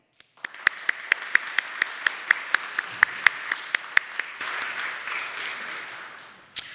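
Students at a Shakespeare competition are met with audience applause: a few sharp, evenly spaced claps at first, then swelling into fuller clapping that fades out near the end.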